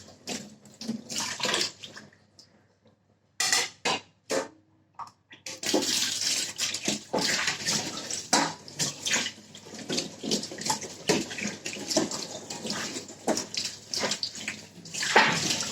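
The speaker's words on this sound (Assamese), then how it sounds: "যিহেতু ল'ৰা মানুহ ধুই আছে ন, ভালদৰে নহ'বও পাৰে মানে বাচন ধোৱাত" A young man washes dishes under a running tap. The water gushes close and loud in bursts that stop and start, with clinks of utensils between the long stretches of flow.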